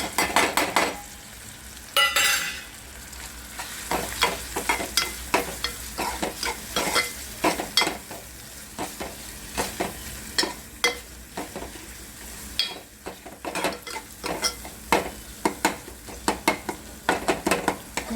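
Spices fry with chopped vegetables in a pan, giving a constant sizzle under repeated close scraping and clinking strokes of a spoon stirring against the metal.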